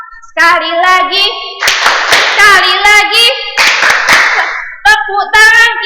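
Rhythmic handclaps accompany a sung children's song about clapping and being happy during a primary-school lesson, crisp claps landing between and under the lively singing voice.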